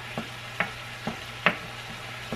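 Ground chuck hamburger fries quietly in a pan while being broken up, a soft continuous sizzle punctuated by about five distinct scraping taps of the utensil at an uneven rhythm.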